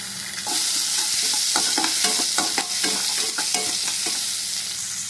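Onions sizzle and fry steadily in a hot pan, with repeated clicks and scrapes of stirring throughout, close and fairly loud, no talking.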